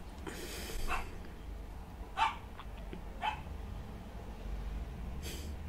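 A dog barks in a few short, moderately loud bursts over quiet room ambience, with a couple of separate yips spaced a second or so apart.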